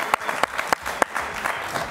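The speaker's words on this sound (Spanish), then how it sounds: "Aplauso para ellos, por favor." A studio audience claps for two young Mexican math olympiad contestants, a short round of brisk applause with a few sharp, distinct claps at the front.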